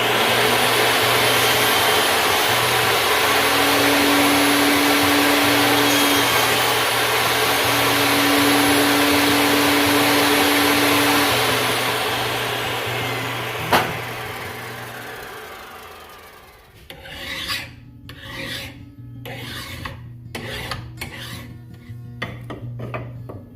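Glued segmented wood blank for a vase has a cross pattern cut into its top with a power tool, a loud, steady, close grinding whine that cuts off near the end, followed by scattered rasping bursts.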